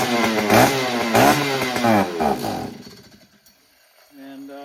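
A Stihl 034AV chainsaw sits on a work bench, its engine revving in loud repeated surges and then cutting out to quiet, with a faint tone returning at the end.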